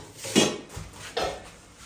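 Dishes and cups picked up, with two distinct clattering bursts of crockery knocking together close by, separated by a short pause. No one speaks.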